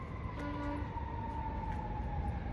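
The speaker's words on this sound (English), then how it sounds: "You hear the police, it's coming already" Emergency siren from fire engines passing through Hollywood, a faint distant wail drifting in pitch over steady low street rumble, with no one talking.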